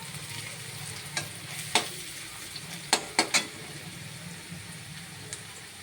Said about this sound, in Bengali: এইবার সব পেঁয়াজগুলোই ভাজা ভাজা হয়ে গেছে